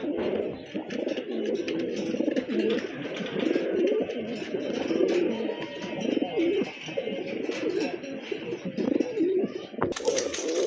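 A pair of satin pigeons coo steadily in a loft, their low rolling calls layered close and continuous with no talking.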